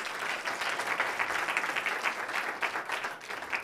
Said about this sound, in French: On peut t'applaudir bien sûr